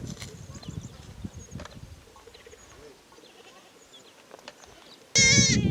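Goats in a Samburu herding area, where girls are milking a goat, with faint scattered animal and bird calls before a loud, close bleat bursts out at the very end.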